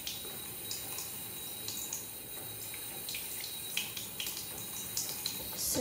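Water runs steadily from a tap at a sink while someone wets their face during a skin care routine, a close hiss with small splashes and drips.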